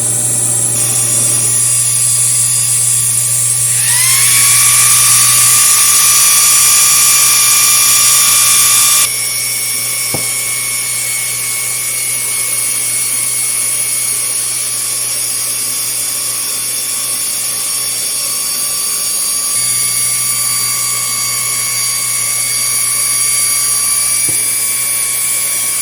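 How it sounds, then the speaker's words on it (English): A laser cutter with exhaust fan and air assist gives a steady mechanical whine with high pitched tones and a constant fan-like hum, rising in pitch after a few seconds then settling into a continuous drone. "I got to turn the exhaust fan on and the air assist"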